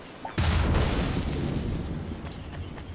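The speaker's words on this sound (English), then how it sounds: "I actually want to see the explosion though." A single deep boom bursts out in Assassin's Creed 4 Black Flag, loud and sudden, then rumbles and fades slowly over the next few seconds.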